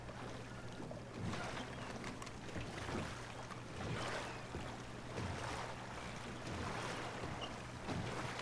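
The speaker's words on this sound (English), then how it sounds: "we gotta steal a boat, don't we?" A boat moves across water in a video game, a faint, continuous wash of water and wind with soft surges that recur every second or so, with no speech.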